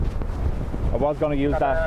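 Strong storm winds buffet the microphone outdoors at Dublin Airport during Storm Bram, a steady roaring rumble that runs throughout while someone talks over it.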